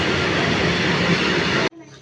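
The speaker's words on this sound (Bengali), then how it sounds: "আর একটা ট্রেন কয়লা বোঝাই করে নিয়ে পিটিসিএল চলে গেল" A coal-loaded freight train passing close by, a loud, steady rumbling roar of rolling wagons that cuts off abruptly near the end, leaving faint background sound.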